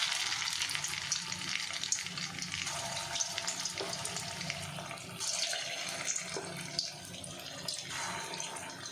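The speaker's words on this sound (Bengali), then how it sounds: "তেলটা গরম হয়ে গেছে, আমি একে একে সয়াবিনের বলগুলোকে ছেড়ে দেবো" Soybean kofta balls drop one by one into hot oil and fry with a steady crackling sizzle, close and moderately loud, with occasional sharper pops and light clatter throughout.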